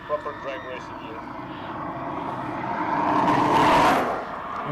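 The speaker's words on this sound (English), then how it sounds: "There you can hear our magnificent drone." Camera drone flying over a hillclimb race course, a steady engine-like drone rising to a louder broad swell near the end, heard under crowd and ambient noise.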